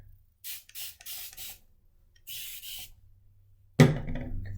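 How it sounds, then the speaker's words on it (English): A few short hissing bursts from a water spray bottle onto hair, close and fairly quiet, separated by pauses, followed by a louder rustling, scrunching sound at the end. "And then I think we're gonna spray just a touch more."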